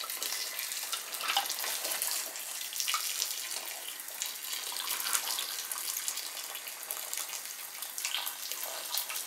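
Boiling water poured over snail shells makes a steady, close rushing splash that lasts unbroken for about nine seconds, with no voices.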